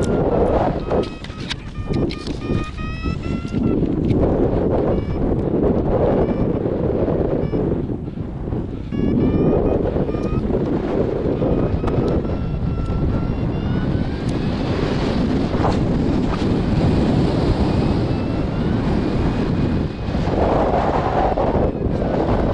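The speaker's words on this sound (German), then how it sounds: "Der Wind ist leider zu stark." Strong wind of about 30 km/h roars across the microphone for the whole stretch, loud buffeting gusts with a faint engine-like drone beneath.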